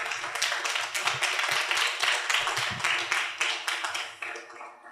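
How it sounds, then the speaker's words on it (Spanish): A medical conference audience gives a doctor a sustained round of applause, many hands clapping in an even, continuous wash that gradually tapers off toward the end. "Un aplauso, por favor, para el doctor."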